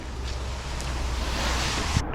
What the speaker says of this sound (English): there's a little more breeze coming out of the east.